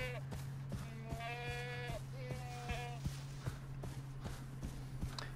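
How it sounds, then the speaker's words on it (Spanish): Goats bleat repeatedly in the Far Cry 3 video game, several quavering calls overlapping near and clear over a steady low hum, with soft hoof-like footsteps and thuds scattered throughout. "Mira, ahora estoy rodeado de cabras."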